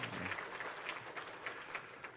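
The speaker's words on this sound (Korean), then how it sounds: "우리 환영의 박수, 큰 박수로 환영해 주시기 바라겠습니다." Church congregation applauding to welcome new members, a faint, distant-sounding spread of clapping with soft rhythmic pulses running steadily throughout.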